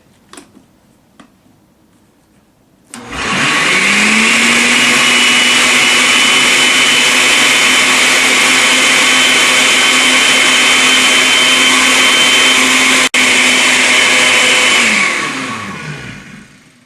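After a few quiet seconds a blender blending cashews and water roars to life, running at a loud, steady whine for about twelve seconds before winding down.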